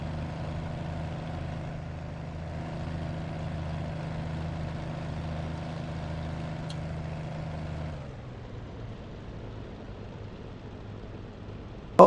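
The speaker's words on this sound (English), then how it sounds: "Oh, my engine's quitting." An aircraft engine in a flight simulator video game drones steadily at a constant pitch, then abruptly drops in pitch and fades to a weaker, sputtering hum as it quits, ending in a brief click.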